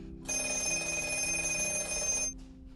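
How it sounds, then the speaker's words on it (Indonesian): A telephone rings with a steady electronic trill for about two seconds, fairly loud and close, then stops abruptly. No voices. "Tak lama kemudian, telepon tiba-tiba berdering."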